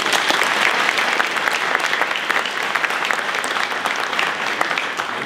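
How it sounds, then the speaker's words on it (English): Dense, continuous applause from a large audience at a governor's public event, steady clapping filling the room with no pauses. "Let's give all of them a round of applause."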